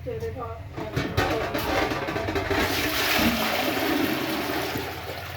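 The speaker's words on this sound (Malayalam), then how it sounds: "ഈ കുടത്തിൽ വേണം ഈ അണ്ടാവിലേക്ക് നമ്മൾ ഒഴിക്കണം" Water pours from a pot into a large vessel in a kitchen, a steady splashing stream under people talking nearby.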